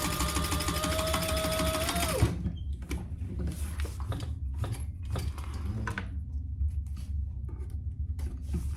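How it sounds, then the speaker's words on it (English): A sewing machine top stitches the outer piece of a zip pouch in a fast continuous whir that stops after about two seconds, followed by quieter handling clicks and rustles. "I'm only top stitching the outside piece."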